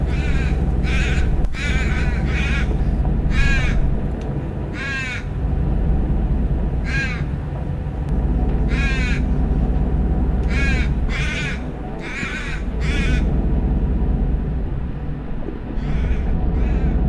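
Crows caw repeatedly in the hills, loud and close, in irregular bursts of several harsh calls over a steady background of wind or rumble.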